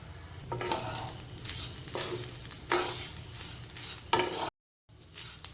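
A spatula stirs and scrapes cooked rice with spices in a hot pan, soft sizzling under repeated rhythmic strokes, followed by a brief silence.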